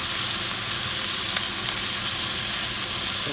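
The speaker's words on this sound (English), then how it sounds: "Cooking a little bit of squid," Squid rings sizzle and fry in a hot pan, a loud, steady crackling hiss that stays close and continuous throughout, with the faint scrape of stirring.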